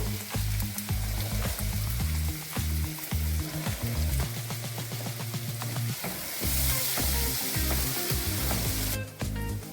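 Chillies and asafoetida sizzle in a hot pan, frying for a hyacinth bean vada pav filling; a steady, close crackle of oil runs throughout beneath loud rhythmic music.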